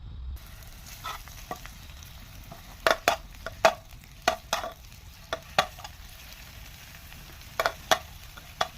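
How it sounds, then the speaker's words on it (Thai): A quiet steady sizzle of curry paste frying in oil, broken by intermittent scraping and clacking strokes of a utensil stirring in a pan. "พอกระทะนะคะเดือดแล้วนะคะเดี๋ยวเราจะเอาพริกแกงลง ไปนะคะ"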